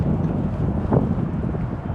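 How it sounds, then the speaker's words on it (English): Strong, gusty wind buffets the microphone in a steady low roar on a lake during kayak fishing for smallmouth bass in grassy shallows, with no talking heard. "The wind has just been brutal all day long"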